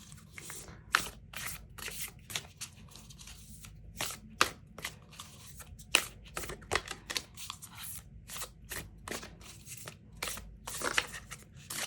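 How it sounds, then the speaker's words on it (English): A deck of oracle cards is shuffled in repeated riffling bursts, crisp papery flicks and slaps close by, with brief pauses between runs and no talking. "I'm just gonna shuffle these."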